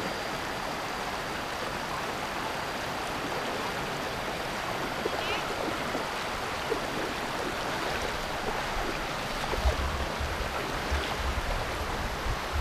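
Steady broadband rush of the shallow Chet Si rainbow waterfall in Bueng Kan, Thailand, with faint splashing of feet wading through the water and a low thump near the end, constant and moderately distant.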